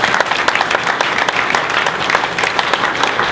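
An audience at a political speech gives a dense, steady round of applause for a state representative, with many hands clapping at once throughout and faint crowd murmur underneath.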